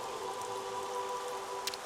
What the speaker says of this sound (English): Ugh, I hate the rain.